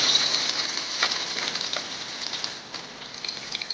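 Onions and potatoes sizzle in hot oil in a pan for a desi chicken curry, a steady close hiss with scattered crackles and pops and no talking.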